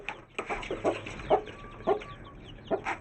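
Several hens cluck in short bursts, close by and fairly quiet, with brief pauses between calls, one hen trying to get out of an enclosure.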